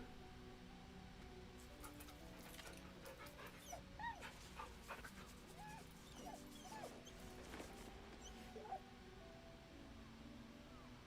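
A dog in a fantasy role-playing game gives faint whimpers and soft yips over a low, steady backdrop.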